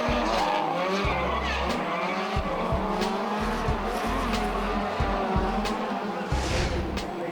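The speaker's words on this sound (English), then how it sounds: "The Dash Car Company Nissan S13 unable to match the chase run from Calvin Clark" Drift cars from a D1NZ drifting round at Tauranga, including a Nissan S13 and a C33 Laurel, skid with loud continuous tire squeal and roaring engines, steady and close throughout.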